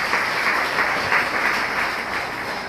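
A church congregation applauding and acclaiming the word of God, a dense, steady wash of many hands clapping that fills the space throughout without a break.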